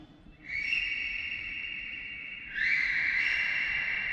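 Long sustained high-pitched calls from people in the Whispering Gallery of the Gol Gumbaz dome in Bijapur ring out, one tone held and then joined by a second, louder one, reverberating through the huge echoing dome.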